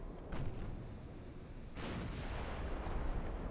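Distant 12-inch naval guns fire in the naval warship game Ultimate Admiral Dreadnoughts, a few muffled booms, the strongest near the middle, over a low rumbling background.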